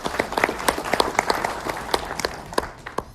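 Audience at a winter gathering applauding, with steady dense clapping and a few louder claps scattered through, crowd noise underneath and no distinct voices.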